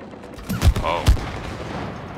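Gunfire in the co-op video game It Takes Two: two loud, close shots with a short rattle between them, followed by quieter game ambience.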